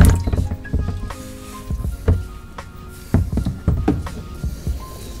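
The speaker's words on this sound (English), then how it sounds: "before you release the oil filter, make sure you got the pan underneath it to catch the oil, because it comes out in a rush" Engine oil from a BMW F10 M5 oil filter housing drains into a pan, with wet squishing, gurgling and dripping sounds close up, arriving in irregular splashy bursts.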